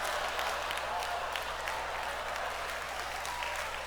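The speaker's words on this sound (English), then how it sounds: "You and everyone that clapped earlier" Steady audience applause at a stand-up comedy show, even clapping from a room full of people with a low hum underneath.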